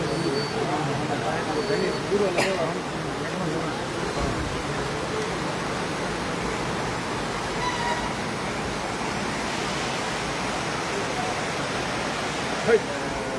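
Floodwater from an overflowing lake flows past houses as a steady, broad rushing roar, continuous and loud throughout, with voices talking faintly beneath it.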